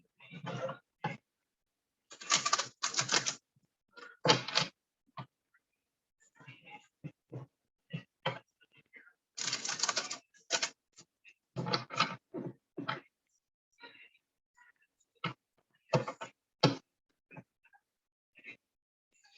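Bursts of riffling and soft slaps as a deck of cards is shuffled repeatedly, close and fairly quiet, with pauses between shuffles.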